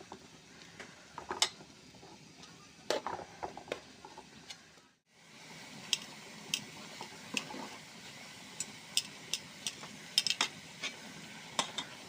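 Washed taro stolons fry in oil with a faint, steady sizzle, scattered with sharp clicks and ticks of stirring, one short pause midway, no talking.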